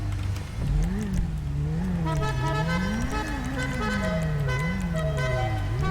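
Loud engine whine in GTA V rising and falling in pitch as a car revs and accelerates repeatedly, with synthetic-sounding harmonics and a brief horn-like tone.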